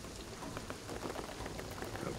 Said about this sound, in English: the rain is gonna flood it